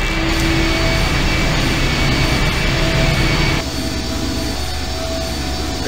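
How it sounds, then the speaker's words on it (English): A large engine rumbles steadily in the video game I Have No Mouth and I Must Scream, a loud, continuous roar with a shift in tone partway through and no talking. "The engine's starting up again."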